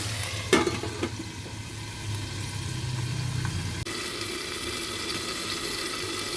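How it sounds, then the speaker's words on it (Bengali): Chopped tomatoes fry in a covered pan for tomato bharta, giving a steady sizzle throughout with a brief clatter near the start. "এগুলো এবার ঢেকে ভাজতে দেব ঢেকে দিচ্ছি"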